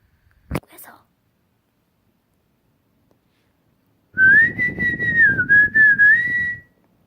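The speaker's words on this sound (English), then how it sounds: "Whistle." A person whistles a sustained, wavering melodic tone for about two and a half seconds, loud and close, following a sharp brief click and a stretch of quiet.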